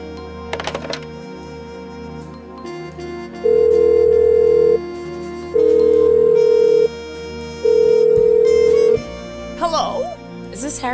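Phone ringing in the Blackwell Unbound point-and-click adventure game: three long, loud, steady electronic ring tones of about a second each, evenly spaced, over quiet background music.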